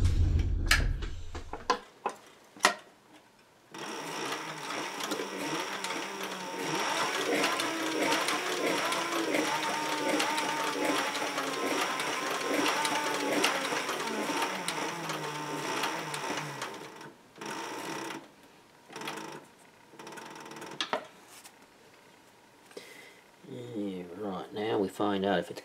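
A sewing machine stitching a leather paddle holster for a Springfield EMP pistol runs in a long steady whirring burst, close and fairly loud, with brief starts and stops around it and a voice talking near the end.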